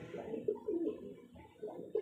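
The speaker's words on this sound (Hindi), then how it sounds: "तो यहाँ लड़ाई होने लगी इन कबूतरों की" Pigeons squabble and fight, giving a few soft, brief coos that are faint and close, with no talk.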